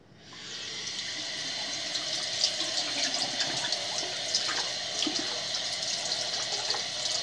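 Water runs steadily from a faucet as a strainer screen is rinsed under the stream, a close continuous splashing rush with small irregular spatters.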